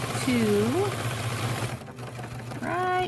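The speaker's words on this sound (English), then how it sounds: "I'm going to sew until I get to the other corner" A sewing machine stitches quilt binding toward a pinned corner, running steadily and close by under someone talking, pausing briefly before starting again.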